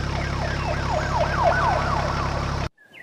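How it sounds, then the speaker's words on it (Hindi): A police car siren wails in a rising and falling pattern over a low engine rumble, loud and close, and cuts off abruptly near the end. "पुलिस आ जाती है और कालू कौवे को पकड़कर ले जाती है।"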